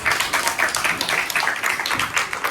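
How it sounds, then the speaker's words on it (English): Classroom clapping for a student who gave a good answer, a short burst of quick hand claps from pupils at close range, steady for a couple of seconds. "Give her a clap."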